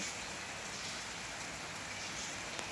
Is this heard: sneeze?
no